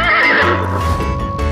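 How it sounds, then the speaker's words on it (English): Close and loud, a horse gives a single neigh that rises and then trails off into a quavering whinny, with nothing else heard. "Horse."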